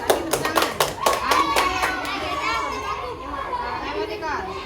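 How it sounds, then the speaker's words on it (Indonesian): A classroom of elementary school children claps in a quick burst of sharp, rhythmic hand claps that fades into lively kids' chatter and voices close by. "Kasih tepuk tangan"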